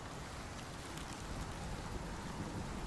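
Heavy storm in the survival game Icarus: dense rain pours steadily with low thunder rumbling beneath, a constant loud wash with no voices.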